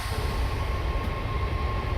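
Steady low rumble of a video game train with a faint hissing release of air brakes, continuous and loud throughout, no voices.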